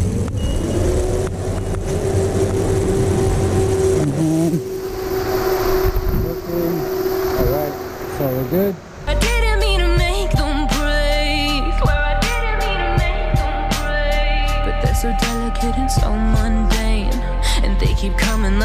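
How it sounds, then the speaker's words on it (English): Electric radiator cooling fans on a Nissan S14 whirring steadily in a garage, first a droning hum, then a sharp change to a busier, ticking mechanical whir with a low steady drone underneath. "we're gonna go ahead and test and see if the fans move in the right direction and if they both actually operate"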